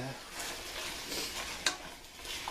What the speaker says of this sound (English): just saute that until the chicken is no longer pink